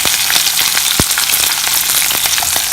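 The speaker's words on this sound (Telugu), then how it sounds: "కొంచెం ఫ్రై అయినాక మన ఆనియన్స్ ఫ్రై అయింది. నేతి వేసుకున్నా." Onions fry in ghee with chillies in a pan, a loud dense sizzle crackling continuously with a few sharp pops and spatters, close up with no voices.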